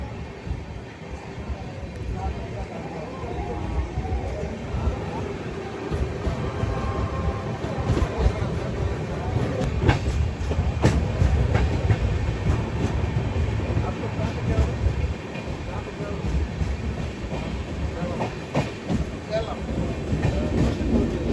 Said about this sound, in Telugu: మన వ్యాప్ 7 లోకోమోటివ్.